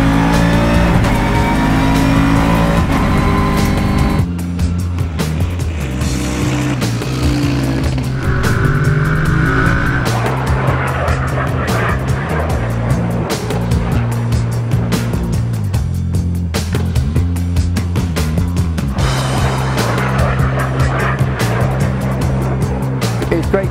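A Bentley Continental GT3 race car drives on a circuit, its engine roaring loud and continuous with shifting pitch through gears and a passing surge, while someone talks over it.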